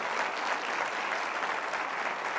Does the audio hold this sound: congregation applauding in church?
yes